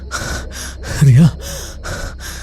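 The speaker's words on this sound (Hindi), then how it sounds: "वो हाँफ रहा है" A frightened man gasps and pants hard in fear after waking alone in a room, rhythmic ragged breaths that swell into one loud gasp midway, with a brief spoken word.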